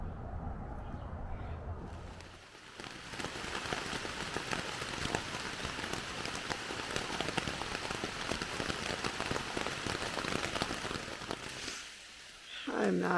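Rain falls steadily on the forested Vermont Long Trail during a long uphill hike, a dense, even patter close around, with a short voice near the start and a brief pause near the end.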